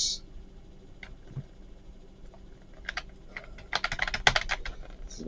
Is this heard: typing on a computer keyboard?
yes